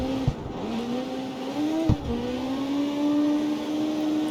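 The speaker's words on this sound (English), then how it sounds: "I don't know why I'm sliding" Car tires sliding in CarX Street, a sustained screech of skidding rubber over a steady revving engine drone, broken by two short thumps, loud and close with no talking.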